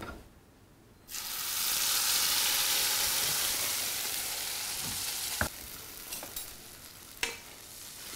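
Curry paste hits hot ghee in a pan with a sudden loud sizzle that stays strong and slowly settles, followed by a few sharp knocks and scrapes of stirring.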